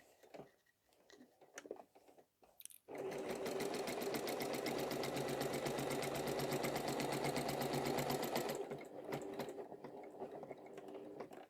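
Near the start a few quiet clicks and handling noises are heard, then a sewing machine runs steadily for about six seconds, close and even, stitching straight diagonal quilting lines before slowing to a stop.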